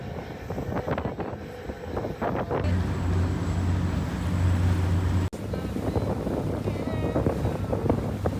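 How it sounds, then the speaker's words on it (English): Steady wind buffeting and a low engine rumble aboard a ferry crossing from Brooklyn to Manhattan, with water rushing beneath, constant and fairly loud throughout with no clear talk. "we're going to ride the ferry back to Manhattan"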